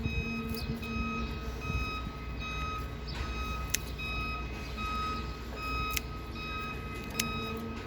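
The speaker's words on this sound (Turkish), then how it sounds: "yeni yeni binalar yapılıyor. O yüzden birazcık ses, gürültü oluyor arkadaşlar" Distant construction noise with a reversing truck's repeating beeps, intermittent metallic clanks and a steady machinery hum in the background.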